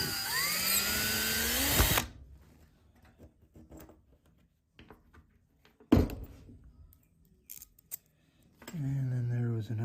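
A power drill backs out big old flathead screws on a radial arm saw, giving two short high whirring bursts separated by quiet clicks and handling noises.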